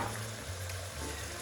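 Meatloaf browning in a pan, sizzling and frying steadily and loudly at close range with no pauses.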